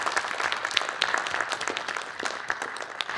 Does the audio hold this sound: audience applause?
yes